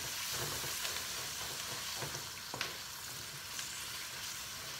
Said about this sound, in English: Now we're going to stir this for about 3 to 4 minutes till the spices are cooked out.